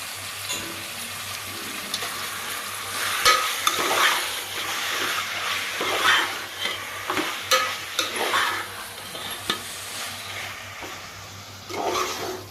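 Chicken fries with curry leaves in a pot, a low background sizzle overlaid by repeated scraping and clinking stirs of a spoon against the metal, close by and irregular over several seconds.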